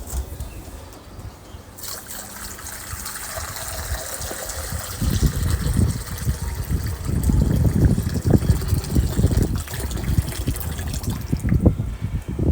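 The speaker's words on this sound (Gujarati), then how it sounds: "હું એમાં પાણી નાખી દઉં છું" Water is poured into a drinking bowl set out for sparrows and pigeons on a hot day in Ahmedabad: a steady, close gushing splash that grows fuller and louder midway and runs on to the end with no talk.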